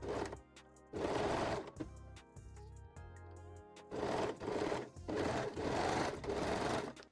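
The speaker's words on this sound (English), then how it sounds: "sew this seam using a serger or zigzag stitch" A serger stitches a seam on the Nella Brazilian thong panties, running in several loud close bursts of whirring motor and needle chatter, separated by short pauses and softer handling.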